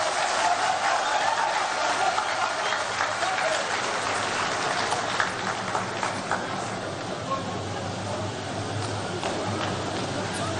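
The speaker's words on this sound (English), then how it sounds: "a round of applause once again for the General Secretary of the NDC, Mr. Fifi Kwete" Sustained applause from a large crowd at an NDC political rally after a post-election acceptance speech, dense and steady throughout with no pauses, loud and close.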